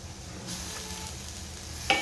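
Cleaned mixed creek fish (Boy, Kharbi and Tole) goes into a hot pan with salt, turmeric, Kashmiri and homemade masala, giving a steady, moderate sizzle with faint stirring scrapes and a brief clink near the end.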